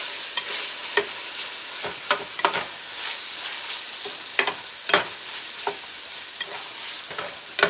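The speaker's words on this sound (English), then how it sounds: "Give it a little bit more stir." Food being stirred in a hot frying pan, a steady sizzle broken by repeated sharp scrapes and clinks of the utensil, close and fairly loud with no talking.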